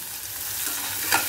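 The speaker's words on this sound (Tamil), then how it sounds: "இதெல்லாம் நல்லா கொஞ்சம் செவக்க வறுபட்ட உடனே எல்லா காய்கறியும் அதில் போட்டுருங்கோ" Vegetables frying in oil in a pan for semiya upma, making a constant close sizzle with stirring and a brief scrape near the end.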